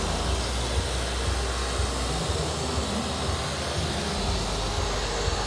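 A Mirka sander at 4000 RPM with 600-grit paper on wood at a trade fair: a steady, loud, unbroken whirring drone with a noisy hall din underneath and no speech.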